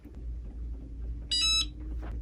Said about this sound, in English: That beep lets you know that the mug is done